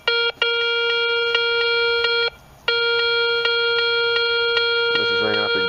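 Garrett Ace 250 metal detector sounding its tone for a dime: a loud, steady electronic beep tone that cuts out briefly near the middle, then resumes, with a short voice-like sound toward the end.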